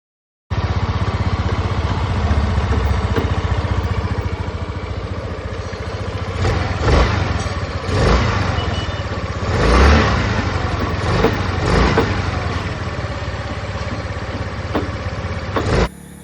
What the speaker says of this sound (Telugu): వెహికల్ని అయితే స్టార్ట్ చేసాం ఒకసారి దీని ఇంజిన్ సౌండ్ అయితే వినండి